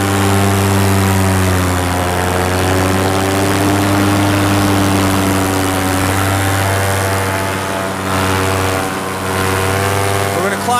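A paramotor's engine and propeller drone loudly and steadily in flight, a buzzing harmonic roar that stays close and constant with slight pitch wavering throughout.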